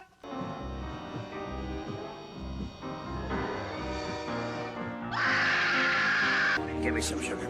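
A theater audience in a film screams in panic, with many overlapping shrieks and cries over a busy soundtrack. The screaming builds to a loud, sustained peak near the end before cutting off abruptly.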